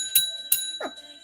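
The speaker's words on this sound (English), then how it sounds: "I'm gonna ring the bell now before I get into another one." A small bell is struck twice in quick succession, each ring bright and close with a sustained metallic tone, followed by a soft knock.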